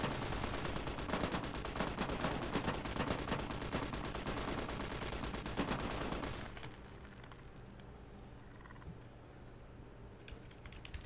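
Dense rapid turret gunfire from the video game Fallout New Vegas rattles continuously for about six seconds, then cuts off, leaving quieter mechanical game sounds.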